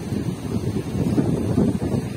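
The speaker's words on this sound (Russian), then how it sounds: "а здесь на побережье очень ветрено" Strong wind on the sea coast at Odesa, a steady low roar and buffeting against the microphone with no voices.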